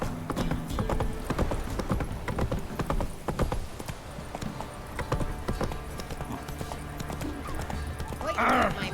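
Galloping horse from The Witcher 3: Wild Hunt, its hooves pounding in a fast, steady clip-clop over game music and ambience, with a brief whinny near the end and a voice heard along with it.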